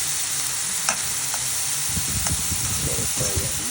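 Mushrooms sautéing in a pan give a steady close sizzle and frying hiss, with stirring scrapes and clatter from about two seconds on, heard alone.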